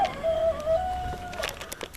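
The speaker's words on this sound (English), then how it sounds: "The rooster's really crowing over there." A rooster crows at a distance, a thin drawn-out call over faint outdoor background noise.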